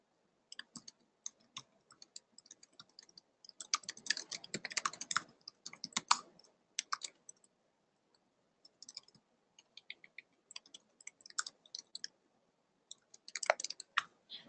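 Rapid bursts of clicking keystrokes on a computer keyboard, tapping in uneven clusters with short pauses between runs, close and fairly quiet with no talking.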